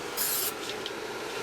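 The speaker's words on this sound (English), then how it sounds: "I'm watching where I'm spraying the products instead of what I'm videoing" CRC rust converter sprays onto rusty metal in a short hissing burst of about a third of a second, followed by faint rubbing and handling noises.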